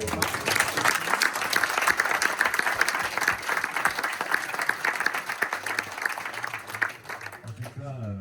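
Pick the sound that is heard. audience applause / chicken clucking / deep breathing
audience applause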